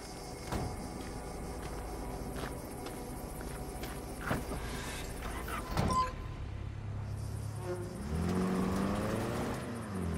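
A car in Cyberpunk 2077 pulling away with a whirring, accelerating engine, with footsteps and a door sound before it and a steady hum afterward, fairly quiet.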